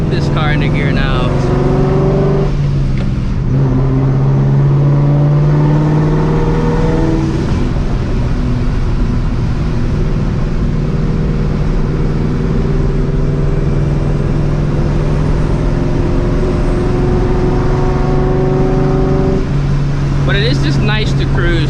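A supercharged 2V Ford Mustang GT engine with 3.55 gears hums steadily in gear at cruising speed, with low drone and road noise throughout, a voice talking faintly over it.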